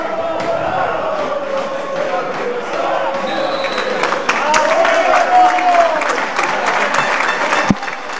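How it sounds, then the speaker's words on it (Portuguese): Crowd applause at a football match for a player, continuous clapping and crowd noise with a tonal voice running over it, fairly loud and steady throughout. "Aplausos para Tom Miguel"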